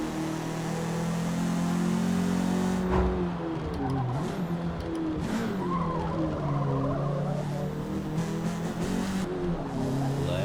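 Race cars at the Nurburgring circuit in Forza Motorsport whine past with engines revving while tires squeal and skid through corners, loud, layered bursts that overlap one another for the whole stretch.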